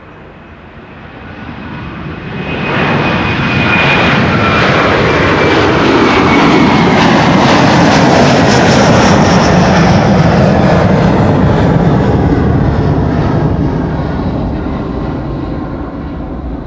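Delta Airlines jet departing Amsterdam Schiphol runway 24, engines swelling to a loud, sustained roar as it takes off, holding steady before slowly fading.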